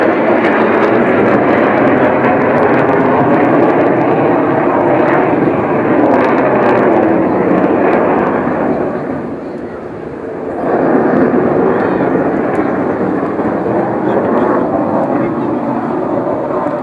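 A fixed-wing aircraft performs at a seaside airshow in Sunderland, its engine roaring loud and sustained overhead, dipping briefly before swelling back up, with announcer commentary heard over the noise.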